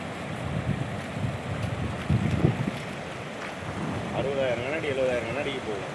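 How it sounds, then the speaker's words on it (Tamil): Fast, powerful river water rushing at Hogenakkal falls, a steady broadband roar with wind buffeting the microphone and brief voices talking over it. "தண்ணி பயங்கர வேகமாக போயிட்டு இருக்குது"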